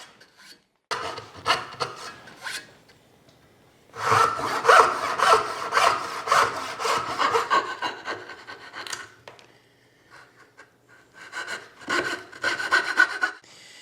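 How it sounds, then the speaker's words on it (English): A hand saw cuts angled dovetails into wood, rasping in steady back-and-forth strokes in three bursts separated by short pauses, close and fairly loud with no talking. "Now it's just a matter of setting the saw in those kerf marks and following the line down to the base."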